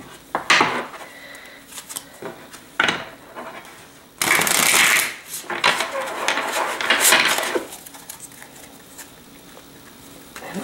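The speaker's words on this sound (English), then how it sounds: "as I finish shuffling this deck" A deck of angel cards gets shuffled close up in scattered bursts of riffling and soft patter, one longer flurry in the middle, with brief quiet gaps between.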